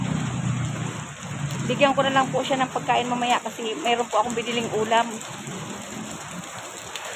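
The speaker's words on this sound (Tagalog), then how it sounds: "Ang ulan." Heavy rain pours down in a dense, constant hiss throughout, while a person speaks over it in the middle stretch.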